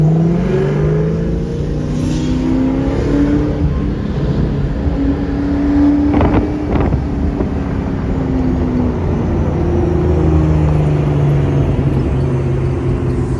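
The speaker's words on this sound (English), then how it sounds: "I did get some footage of him cruising the bullet down the strip" A Ford Mustang Bullitt cruises down the Las Vegas Strip at a Shelby meet, its engine a loud, continuous rumble with gliding pitch shifts as it rolls and revs, with no talking.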